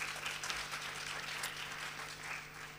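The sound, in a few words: round of applause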